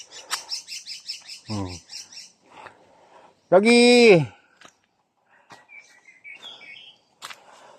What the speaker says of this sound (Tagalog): Maririnig yung mga huni ng ibon.